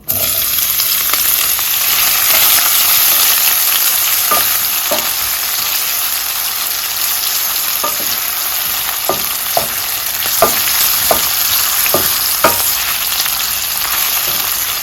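Chopped onion sizzles loudly in hot oil in a pot over medium-high heat, a steady crackling hiss with occasional sharp pops and stirring scrapes.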